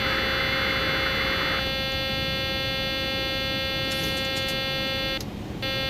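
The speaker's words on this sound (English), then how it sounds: "Let's just put our gear down so the alarm system doesn't get upset" A landing gear warning horn sounds in a Boeing 737-900ER cockpit in the X-Plane 12 flight simulator, a loud, steady buzzing tone over cockpit hum that holds for about five seconds, then cuts off.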